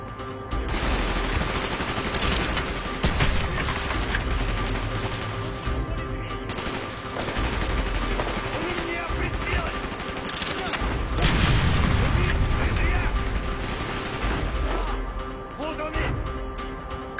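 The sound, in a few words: gunfire in the Call of Duty: Black Ops video game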